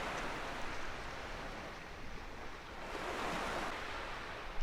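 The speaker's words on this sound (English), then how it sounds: "I love the sound of the water lapping along there." Water laps along the shore at Reef World Australia in Microsoft Flight Simulator 2020, a soft, steady wash of small waves with faint surges, quiet and unbroken, with no talk.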